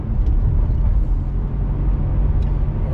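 Lamborghini engine fitted with a titanium exhaust line, cruising in fifth gear with a steady, loud low drone and road rumble throughout, no voices.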